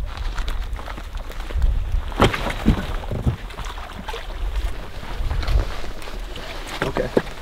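A small fishing boat moving across water, with wind buffeting the microphone, splashes and knocks of the hull, and occasional faint voices.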